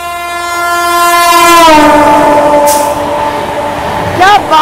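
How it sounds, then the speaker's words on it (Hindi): The Sealdah Rajdhani express train sounds a long, loud horn that bends downward in pitch as it passes close by, with rumbling wheels beneath and a short second horn blip near the end. "अब आपके सामने पेश करने में जा रहा हूं सियालदा राजधानी"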